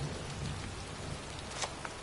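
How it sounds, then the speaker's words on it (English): Steady rain falling in a cemetery in the video game Heavy Rain, a dense continuous hiss of drops with a few brighter splashes, moderately loud and with no speech. "It's cold. It's raining."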